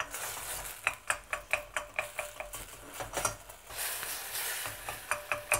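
Cranberries simmering with reduced bourbon in a pan, stirred with a utensil that clinks and scrapes in a steady rhythm over a soft sizzle, close up and with no talking.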